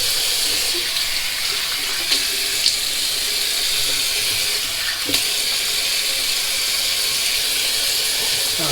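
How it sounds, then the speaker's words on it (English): Cold water running steadily from a bathroom tap for a shaving rinse, a constant bright hissing stream with a few faint splashes and clicks, close and continuous. "what I'm going to do is do a cold water rinse"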